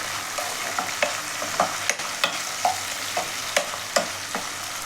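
Tomato pieces and cashews stirred in a pan for upma: a steady background sizzle with repeated scraping strokes of the spoon roughly every half second, close and fairly loud, with no voices.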